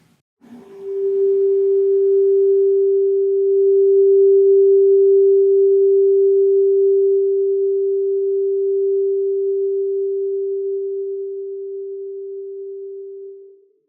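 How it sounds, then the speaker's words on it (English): A single steady pure tone from a 396 hertz tuning fork rings out clearly after a soft strike, sustaining evenly for over ten seconds before fading slightly and cutting off. "So now I am going to play for you the 396 hertz tuning fork."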